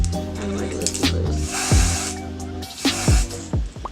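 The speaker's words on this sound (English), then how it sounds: "So I'm gonna go ahead and spray it. I usually spray it from afar." Tint spray misted from a distance onto a wig's lace, two broad hissing bursts of moderate loudness separated by a pause, with a steady low hum beneath.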